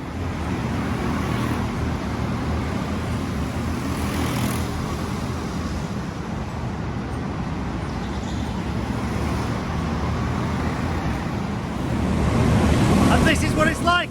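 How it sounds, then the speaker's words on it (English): Go-karts race around a huge indoor track in a converted aluminium works, a dense, steady roar of engines and echoing noise that swells louder toward the end. "Really, really noisy place and go-karts everywhere."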